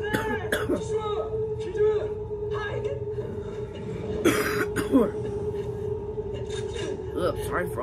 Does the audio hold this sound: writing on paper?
no